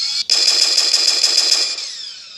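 A minigun from the Desnogun mod in Minecraft fires a rapid, even burst of synthetic shots, loud and close, running for about a second and a half before tailing off, with no voices.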